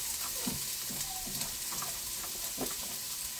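Onion frying in olive oil in a pan for spaghetti, a steady bright hiss of sizzling with soft scraping stir sounds breaking through every second or so.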